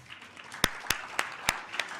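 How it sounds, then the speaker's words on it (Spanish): A few people clap at a book presentation, five or six sparse, distinct claps spaced about a third of a second apart over faint room noise. "Les damos un aplauso,"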